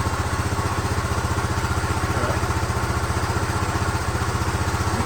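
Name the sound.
1974 Honda motorcycle engine idling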